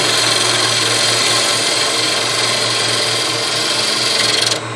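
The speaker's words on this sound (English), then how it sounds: "Keeping the bevel in touch with the wood all the time as I roll the tool over, bring the handle around" A woodturning gouge cuts beads into wood spinning on a lathe, a loud continuous scraping hiss over the steady hum of the motor, easing off at the very end.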